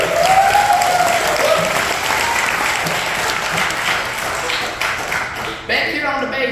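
A live bluegrass camp audience applauds banjo player Berkley Stewart, a dense, steady wash of clapping that holds loud throughout and dips slightly near the end, with voices mixed in.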